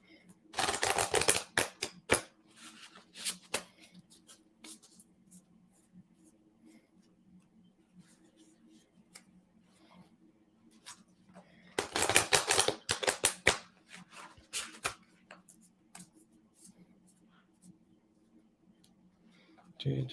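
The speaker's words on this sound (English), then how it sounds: "Let me shuffle this deck." Two bursts of crisp, rapid riffling clatter, like a card deck being shuffled, close by, separated by a quieter stretch with soft handling noises.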